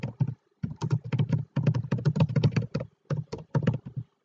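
Typing on a computer keyboard: bursts of quick, close, crisp key taps in an irregular rhythm, with brief pauses between runs of keystrokes.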